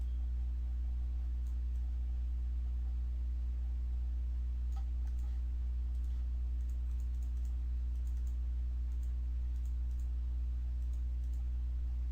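A computer mouse clicks during Photoshop editing, a scattering of faint, light clicks at irregular intervals over a steady low electrical hum.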